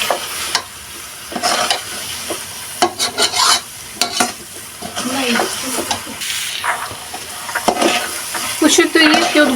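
Carrot halwa with cashews and dry fruits being stirred in a pan, with repeated scraping strokes and soft sizzling in irregular bursts, close and fairly loud.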